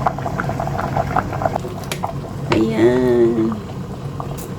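Sugar cane and carrot soup boiling in a covered pot, a soft steady bubbling under a voice, with a brief louder gurgle and lid clatter midway.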